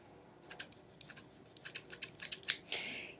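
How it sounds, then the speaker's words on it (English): Strong scissors snip through cardboard in a quick run of about a dozen crisp, close cuts, quiet and alone, ending in a longer rasping slice. "cut down this part of the cardboard with some scissors"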